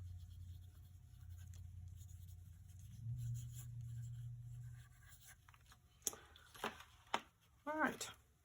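A pen scratches across the pages of a journal in a few short, brisk strokes near the end, close and fairly faint after a stretch of low background hum.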